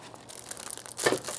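A piece of plastic bag is crumpled by hand during engine work on a Subaru, with soft close crinkling that builds into a sharper burst of rustling near the end.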